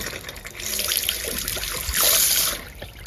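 Water gushing from a tap after a plate heat exchanger repair on a Worcester Bosch boiler, a close splashing flow with spurts of air that surges louder midway, no talk.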